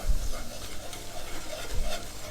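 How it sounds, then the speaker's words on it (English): Butter and plain flour cooking down in a pan, a soft continuous sizzle with occasional stirring scrapes and low thumps, moderately quiet and close. "I'm using 3 tablespoons of butter. I have 3 tablespoons of just plain flour that has to cook down"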